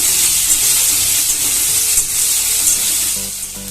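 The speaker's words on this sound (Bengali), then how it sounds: "টমেটোটা কিছুক্ষণ ভেজে নেবো যতক্ষণ না টমেটোগুলো নরম হয়ে যায়।" Chopped tomatoes fry in a pan until soft, giving a steady, loud sizzle that holds close and even throughout, with faint stirring scrapes underneath.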